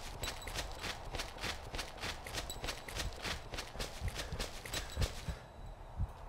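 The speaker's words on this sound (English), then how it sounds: "Why are we following these footsteps?" Regular, evenly spaced footsteps in a Weeping Angels horror video game, each step a crisp broadband thud, with a few heavier low thumps near the end and no talking.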